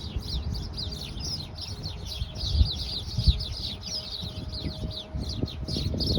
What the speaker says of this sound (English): Oh, look, the birds are fighting or something.